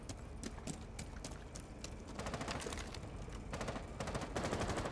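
Rapid video-game gunfire rattles in quick bursts of sharp repeated shots, building louder over a few seconds with no talk.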